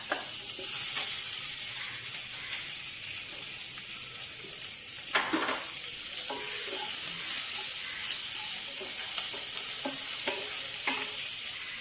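A small piece of ginger and four green chillies fry in hot oil, making a loud, constant sizzle. Occasional light stirring scrapes sound close by, and no one talks.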